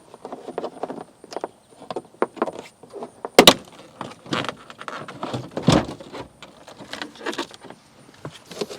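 Interior trim piece being pried and pulled loose inside a 2003 Toyota Camry, a run of sharp plastic clicks, knocks and rattles with a louder snap near the middle, close and without talk.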